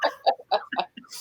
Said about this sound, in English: The chicken's very excited.